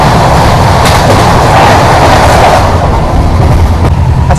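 Lucknow Shatabdi express train rushing past at a railway crossing, a loud continuous roar of rolling wagons with faint clickety-clack, steady throughout with no talk.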